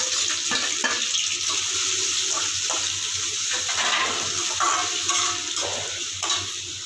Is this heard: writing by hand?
no